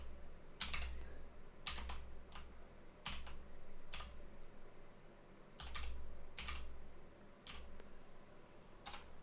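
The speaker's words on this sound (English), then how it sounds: "Let's type this." Keys tapped on a computer keyboard in short clustered bursts with brief pauses, quiet and close with a low background hum, during a male-to-female gothic rock makeover session.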